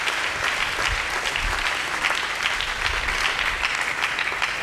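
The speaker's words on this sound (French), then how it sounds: "Est-ce que nous pouvons acclamer très fort?" A congregation at a church service cheers and applauds loudly, a dense, steady roar of clapping and voices that holds at full strength throughout.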